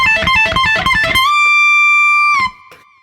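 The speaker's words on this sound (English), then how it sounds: "And the very last lick in the solo sounds like this." Distorted electric guitar plays the closing lick of a solo: a quick run of picked notes, then a long sustained bend that rings out before two short muted hits.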